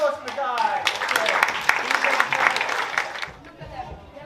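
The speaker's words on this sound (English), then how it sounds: "Round of applause for the guy." Audience applause at a school STEAM Week assembly, a sustained crowd clapping that builds and then fades, with children's voices mixed in throughout.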